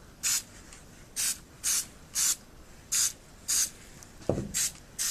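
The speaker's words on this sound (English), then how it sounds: "I don't think I've ever sprayed in front of the camera before, so it's kind of hard to do it." About ten short, evenly spaced hisses of spray paint hit a tarp up close, each burst under half a second. A dull knock lands near the end.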